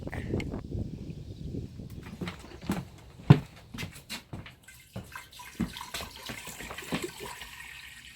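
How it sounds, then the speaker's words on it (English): Water pumped by hand at a homestead property, irregular splashing gushes and drips in uneven pulses with a sharp clank partway through, fairly close. "when you're the one that's pumping the water"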